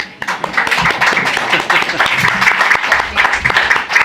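An audience at a book presentation for a Spanish novel about Don Quixote breaks into sustained, dense clapping, loud and close, continuing steadily throughout.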